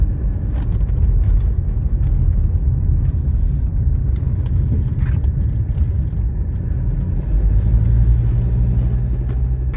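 A 1984 Mercedes 300D diesel sedan with 21,000 miles drives on a road in cold weather, producing a steady, loud low rumble with road and engine drone heard from inside the car, with faint ticks over it.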